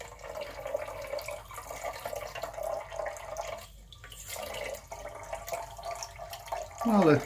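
A weak trickle of water from a reverse osmosis filter runs as a thin, steady splashing stream, close and fairly quiet, with a brief louder gurgle near the end.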